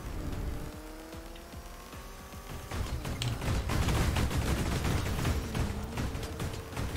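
Side-mounted cannons firing on a vehicle in KEO, a Portuguese PlayStation combat video game, rapid bursts of booming shots over a continuous engine roar that grows louder and denser midway.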